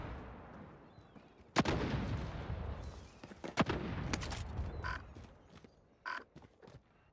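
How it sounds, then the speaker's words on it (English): Bursts of gunfire in a shooting video game, played on an Nvidia RTX 3080 setup: a few sharp, loud shots and short volleys spread over several seconds with a low rumbling background between them. "somebody shooting me"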